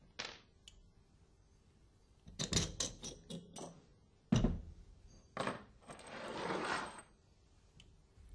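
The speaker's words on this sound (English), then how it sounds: "Remove the upper screws and nuts." Metal screws and nuts being removed from a butterfly valve actuator, heard as scattered sharp clicks and small metallic clinks with a few bursts of scraping and rattling handling noise, close by with no talk.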